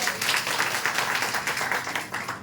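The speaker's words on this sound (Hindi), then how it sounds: "ताली बजा लीजिए" An audience claps together, producing a dense, even patter of hand claps that lasts a couple of seconds with no pause.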